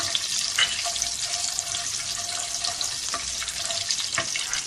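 Cumin and mustard seeds fry in hot oil for a tangy tamarind potato dish, a close, crackling sizzle dotted with sharp pops, with no talking.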